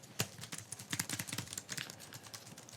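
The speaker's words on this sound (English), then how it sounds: "Okay, so I'm typing," Fast, irregular tapping of keys on a keyboard attached to an Apple iPad, a run of close, crisp clicks lasting a few seconds with no talking.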